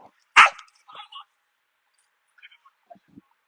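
A dog gives one sharp, loud bark, followed by a few softer yips and faint whimpers with quiet gaps between them, close to the microphone.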